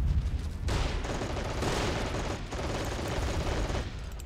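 Gunfire rattles through a World War II battle in Men of War: Assault Squad 2, with dense overlapping rifle and machine-gun bursts and booms filling the scene without pause.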